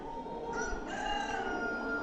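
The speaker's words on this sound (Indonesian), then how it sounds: "kicauan burung-burung di sana" Outdoor bird calls sound faintly in the distance as a single drawn-out, rooster-like crow over a soft background hiss.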